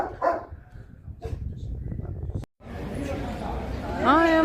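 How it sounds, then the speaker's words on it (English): A street dog in the historic centre of Granada, Spain, gives a few short barks and yips close by, mixed with voices and some background chatter. "Dog is not happy."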